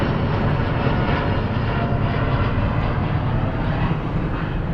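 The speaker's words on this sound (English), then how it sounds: "there are airplanes coming in constantly towards the airport, so sorry about that" An airplane flying over toward the Lisbon airport, a loud continuous broadband engine roar that fills the whole stretch without letup.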